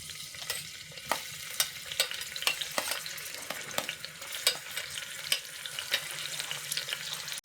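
Onion and green chili fry in hot oil inside a pressure cooker, making a continuous soft sizzle punctuated by frequent sharp spoon clicks and taps against the metal while they are stirred.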